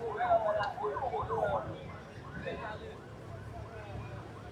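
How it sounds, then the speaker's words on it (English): Sirens wail at a crowded event in central Monrovia, rising and falling tones heard over someone speaking in the foreground, loudest at first and then fading. "the sirens"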